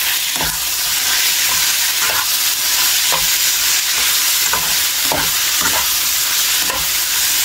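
Potato bhaji frying in a pan with a steady loud sizzle, broken by repeated scraping stirs of a spatula at roughly one-second intervals, no talking.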